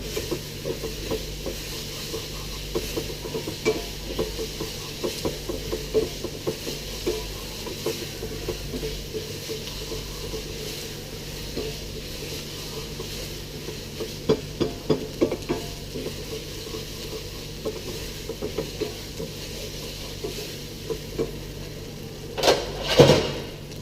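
Onions seasoned with salt and pepper sizzle steadily in a pan while a utensil stirs and scrapes them, with scattered clinks and a louder scrape near the end; no talking.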